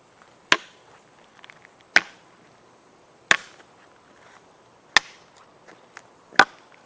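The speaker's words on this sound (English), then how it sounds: "That's the sound of this metal hitting stone or concrete, rock." Five sharp, bright taps of a hiking stick's metal tip striking stone or concrete, evenly spaced about a second and a half apart, close up with quiet between them.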